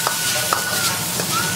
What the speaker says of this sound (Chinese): 给它翻炒八九上十下